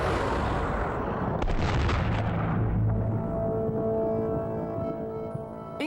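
Replica Civil War musket of the Gettysburg type, percussion-cap fired, goes off in one loud, close blast, and the roar decays into a long rumbling echo that fades over several seconds.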